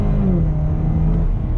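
A 2019 Chevy Camaro Turbo drops a gear on the paddle shifters, its engine note rising as a steady rumble with a brief swelling tone, loud and close from start to finish.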